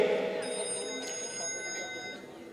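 A mobile phone rings with a bright electronic tone, its steady ringtone sounding over the murmur of a room during a spoken gathering.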